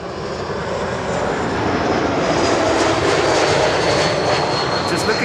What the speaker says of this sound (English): In the meantime, Air France flight 1340 is arriving. That is a Bombardier C-Series 300.